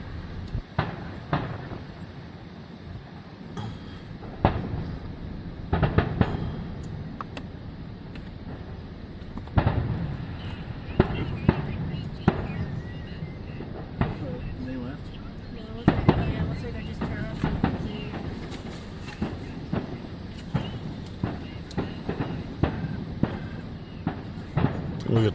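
Fourth of July fireworks heard from an open window as a thunderstorm builds, with repeated booms and crackling bursts at irregular intervals, some sharp and loud, over rain and a steady background wash, with people talking now and then.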